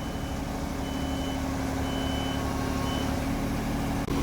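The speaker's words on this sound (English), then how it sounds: "You pull it, the machine's going to roll towards you. Push it, it's going to roll backwards" A Genie or JLG boom lift rolls with its steady, evenly spaced reversing beeps sounding over a constant engine hum, close and continuous with no talk.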